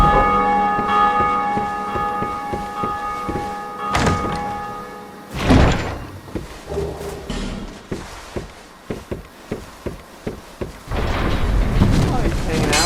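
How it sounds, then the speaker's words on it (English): A deep church-style bell tolls in Dark Souls 2, its sustained ringing tone opening the scene before heavy thuds and a series of evenly spaced hits follow, with game noise and some talk around it. "Ring the bell! I take my toll!"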